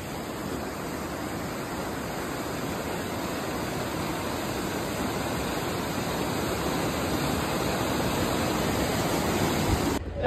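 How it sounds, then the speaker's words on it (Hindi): Glacier meltwater pours down a waterfall stream in Kashmir, a dense, steady roar of rushing water that stays constant and fairly close throughout. "একদম ডিরেক্ট গ্লেসিয়ারের জল আসছে, সেই গ্লেসিয়ারের জলের ঝর্ণা"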